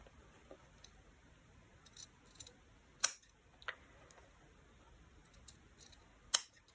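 Scissors snip notches into a fabric seam allowance, giving a handful of sharp, faint, isolated cuts spread unevenly against a quiet background.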